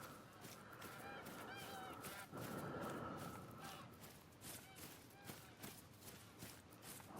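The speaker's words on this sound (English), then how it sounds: "Freaking geese everywhere." A flock of Canada geese in theHunter: Call of the Wild, Yukon Valley, honks repeatedly in quick overlapping calls, fairly close, alongside scattered rustling and footsteps.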